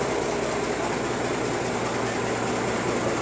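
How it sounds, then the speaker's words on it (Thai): Rice harvester engine running with a newly fitted cylinder head, a steady close idling drone with a constant low hum and no pauses or talk. "เครื่องไอ้ใส่หัวใหม่นี่เสียงเครื่องเงียบกว่าเดิมนะพี่น้องนะ"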